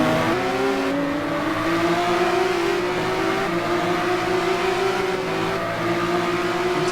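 Race car engine in the Simraceway racing video game, a steady, loud droning whine holding a sustained high pitch that drifts slowly, with no voices over it.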